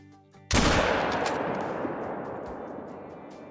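A single loud rifle shot cracks out while hunting, its sharp blast trailing into a long echoing decay across open country.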